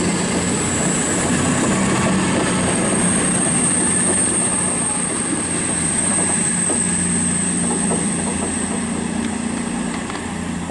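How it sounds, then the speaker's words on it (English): A CrossCountry train pulls out of Bath Spa station on the Great Western Main Line, a loud continuous rumble and wheel roar with a high steady whine above it, close and unbroken throughout, no voices. "departing there is the 11:57 CrossCountry service from Exeter St David's to Glasgow Central"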